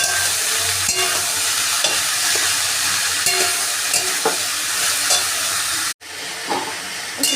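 Ash gourd pieces stir-fry in a hot pan with a loud, steady sizzle, punctuated by scraping stirs, and a brief cut near the end before the frying resumes.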